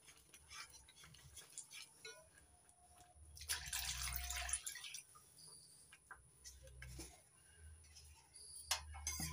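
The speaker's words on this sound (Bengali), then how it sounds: "এবার দিয়ে দেবো পরিমাণ মতো জল।" Water poured into a whisked yogurt and spice mixture for a doi katla fish curry, a soft splashing pour that swells in the middle and then trails into small drips and clinks, quiet and close.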